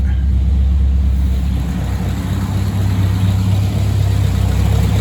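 The engine of a 1937 Cord 812 runs steadily during gear-shift troubleshooting, a continuous close, loud low hum with mild fluctuations and no clear shift clunks standing out.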